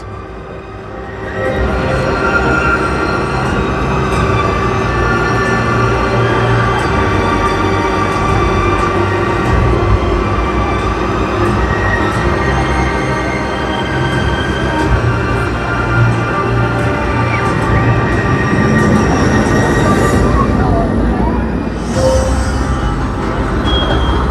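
Hyperion roller coaster at Thorpe Park during a ride: a loud, continuous roar and rattle of the train on the track with rising and falling whine and squeal, sustained throughout, no talk.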